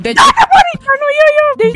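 A dog gives a thin, high drawn-out whimper between bursts of someone talking loudly up close.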